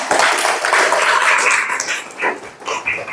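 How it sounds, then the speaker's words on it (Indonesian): A classroom of students clapping together for a few seconds, a dense broadband patter that swells and thins toward the end, with no one speaking over it. "beri tepuk tangan dulu untuk kita semua"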